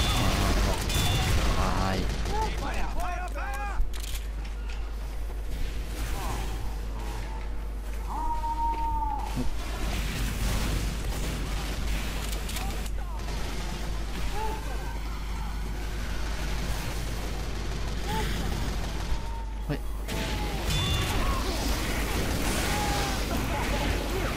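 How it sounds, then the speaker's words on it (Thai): Gunfire trades back and forth in a Team Fortress 2 match, with dense bursts of shots and explosions running continuously under excited talking. "มันยิงปืนไปแล้วเราสวนกลับ"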